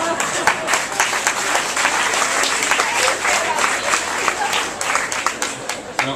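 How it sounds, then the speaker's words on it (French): An audience claps after a speech by the French ambassador at a 14 July 2011 reception in Israel, a steady wash of applause of moderate loudness, with voices mixed faintly underneath. "Les applaudissements sont un peu moins nombreux sur ce passage."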